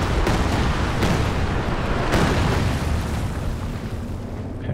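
Nebelwerfer rocket artillery pounds the battlefield in Company of Heroes 2, a rolling series of heavy booming explosions in close succession, loud and dense, gradually easing toward the end.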